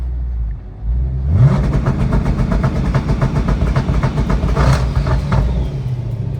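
A twin turbo Mustang engine revs hard and holds at high revs, with turbos spooling and an uneven, stuttering misfire through a loud, dense roar.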